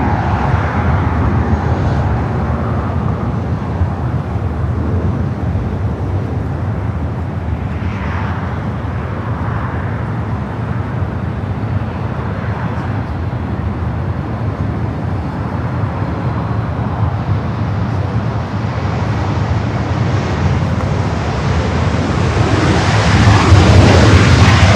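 A Southwest 737 MAX 8 arriving from SFO at LAX makes a broad, continuous jet engine roar that holds steady and then swells louder near the end as the airliner comes closer, with no talking.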